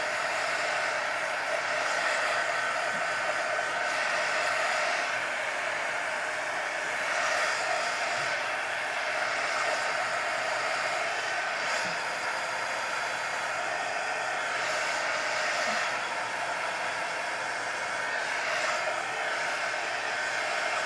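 A hair dryer blows on wet paint, a steady, close whooshing hiss that holds unbroken throughout with small fluctuations as it is moved, with no speech.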